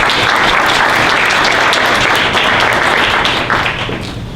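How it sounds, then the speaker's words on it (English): Loud round of applause from an audience at a talent and onboarding talk, full and continuous clapping from the start that gradually thins toward the end. "Let's give them a round of applause real quick."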